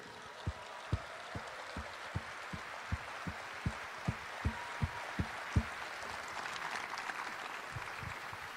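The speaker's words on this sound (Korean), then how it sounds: "뜨거운 감사의 박수 부탁드립니다." A crowd at a Korean political campaign committee launch applauds in a steady, rhythmic beat of low thumping claps over a soft wash of hall noise, fairly faint and distant, with no voices.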